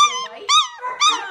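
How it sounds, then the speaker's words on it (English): A young puppy gives three rising whimpering howls in quick succession, close and fairly loud, each a high wavering cry with short pauses between. "It's a puppy."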